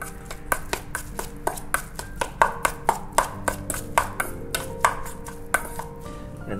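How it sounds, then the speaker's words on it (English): A knife chopping bluefin tuna toro on a cutting board: a steady, fairly fast series of close, crisp thuds that continues throughout. "And now I'm gonna do a chop up the bluefin."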